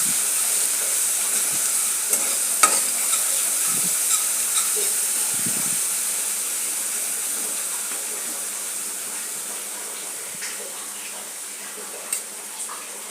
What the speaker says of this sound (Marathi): मिरचीचा रंग बदलेपर्यंत आपल्याला याला परतून घ्यायचं आहे।